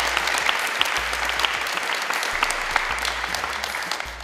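An audience applauds at a live show event, dense sustained clapping at an even level throughout, with no voices standing out.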